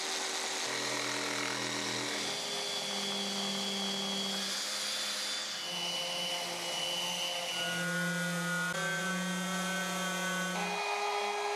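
A power sander hums continuously, its pitch shifting as pressure changes against the wood, loud and close throughout.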